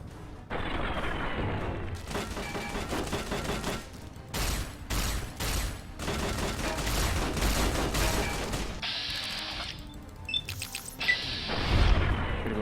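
Enemy gunfire in Fallout New Vegas, a series of sharp shots and booming bursts in irregular clusters, loud and close amid game noise.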